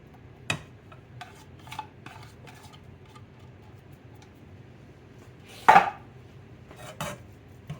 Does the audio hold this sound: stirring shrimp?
yes